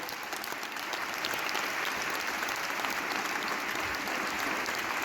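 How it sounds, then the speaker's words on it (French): At a concert in Besançon, a large audience applauds a musician steadily, a dense, continuous wash of clapping that holds at an even level throughout. "on peut l'applaudir très très fort, évidemment."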